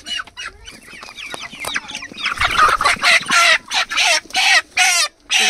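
Backyard chickens kept for home eating cluck nearby, soft scattered clucks at first building into a loud, rapid run of squawking calls in quick bursts.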